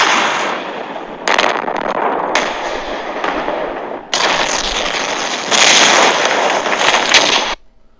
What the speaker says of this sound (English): the collision caused a massive explosion that destroyed the Titan charged fiend and caused a whole chain reaction of explosions with the other tanks